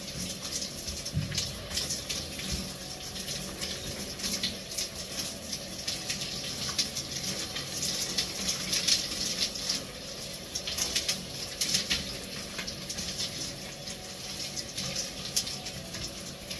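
Hot shower water running in a public dressing-room shower, a steady spraying hiss with faint splashes and clatter throughout, no voices.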